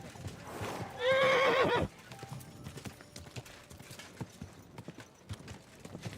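A horse gives one loud, shrill whinny, then hooves clip-clop steadily along for several seconds, in the video game Kingdom Come: Deliverance II.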